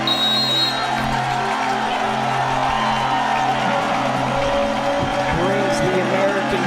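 An American crowd at a 2022 freestyle wrestling World Cup match roars and cheers in a continuous, dense wall of noise, with scattered shouts and voices mixed through it from start to finish.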